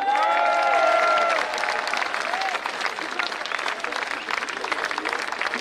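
Large crowd at an outdoor protest rally against the health pass applauding continuously, with cheering voices and whistles rising over the clapping early on.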